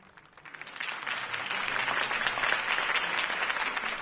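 Crowd applause in the Batman Telltale video game rises after a campaign speech, swelling from a quiet start into steady, dense clapping that holds for several seconds.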